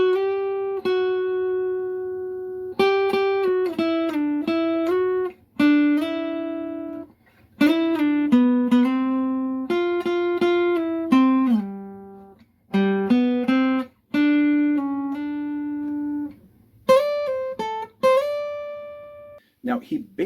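A guitar plays the opening phrase of a song, without a slide, in clear, sustained notes with gliding pitch bends between them, separated by short pauses, played alone without talk.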